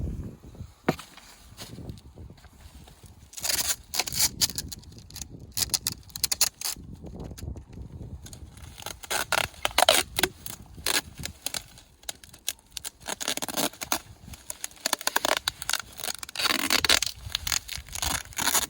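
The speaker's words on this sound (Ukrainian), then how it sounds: "Далі, щоб воно більш міцніше трималося, ми зв'язуємо скотчем." Adhesive tape being pulled and wrapped around a bundled package of raspberry seedlings, giving repeated crackly ripping and rustling bursts up close, with no talking.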